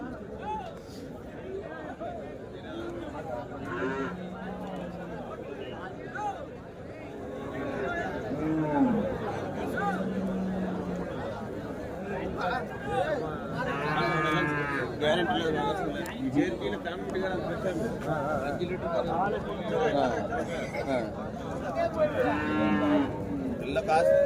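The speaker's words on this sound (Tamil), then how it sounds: "இங்கே ஒரு பசு மாடு இருக்குது பாருங்கள்" Cows moo repeatedly at the Kundarapalli cattle market, drawn-out bellows rising near and farther off amid a busy crowd, with people chatting and talking throughout.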